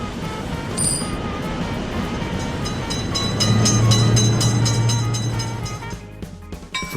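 In the Railroute crossing game, a train crosses a level crossing: continuous rumbling noise swells into a loud nearby pass with a droning horn-like tone, then eases back toward a softer clattering background.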